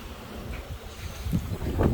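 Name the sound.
wind blowing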